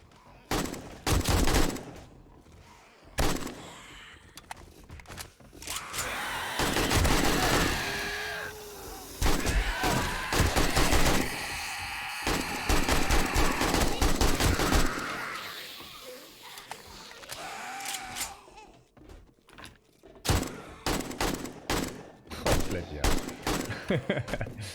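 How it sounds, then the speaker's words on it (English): Panicked bursts of gunfire in 7 Days to Die, with dense rapid shots and scattered single cracks, loud and close, trailing off into a few isolated shots and sounds of play. "Panic firing."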